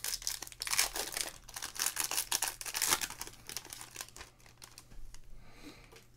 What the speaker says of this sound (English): These are penny sleeves, PJ.